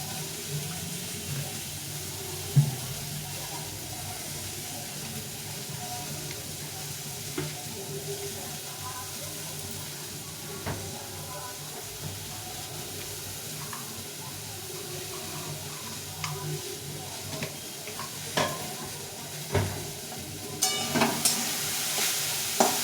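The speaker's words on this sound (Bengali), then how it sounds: "কড়াটা গরম হয়ে গেছে একটু তেল দিয়ে দেবো সাদা তেল" White oil and ingredients fry in a hot wok for vegetarian chowmein, a close steady sizzle with occasional pops and stirring clinks that sharpen into a louder spitting burst near the end, with no talking.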